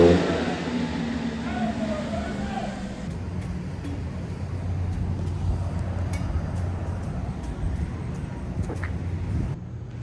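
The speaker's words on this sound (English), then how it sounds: "After, we were treated to some Tennessean wheelies." Engines revving in a Tennessee parking area during street wheelies, a continuous loud motor roar with a low rumble, briefly stronger at the start, with scattered clicks and crowd noise throughout.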